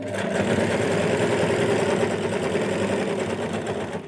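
A sewing machine runs steadily and loudly throughout, stitching a pocket onto a nighty with a dense, continuous whirring needle rhythm and no voice.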